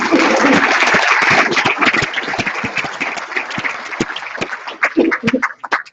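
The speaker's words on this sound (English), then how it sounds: "One more round of applause" Audience at a school district governing board meeting gives a round of applause, loud and dense at first, then thinning into scattered individual claps toward the end.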